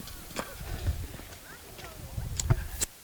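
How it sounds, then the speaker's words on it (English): Rapid hoofbeats of horses charging at a gallop in a medieval faire joust, close by, with a crowd's voices rising and murmuring underneath. "Horses are charging."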